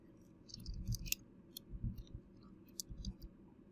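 A computer mouse gives several light, crisp clicks at uneven intervals while notes are placed in MeasureSquare 8 flooring software, with soft handling noise and a quiet room hum underneath.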